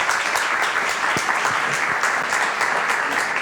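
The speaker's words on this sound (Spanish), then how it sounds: "Un aplauso para él, por favor." An audience claps for a speaker being invited forward at a talk on neuroeducation: a continuous wash of applause at a constant volume, with no voices over it.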